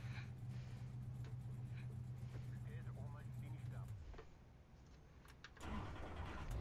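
Race car engine from a NASCAR racing video game at Daytona International Speedway, a steady low drone running under faint background talk for about four seconds, then fading and dropping away before louder mixed noise returns.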